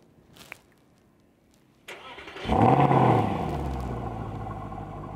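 A Mercedes SLS engine fires up after a short click and thud, surges into a loud rev through its twin chrome exhaust tips, then settles into a steady, rumbling idle.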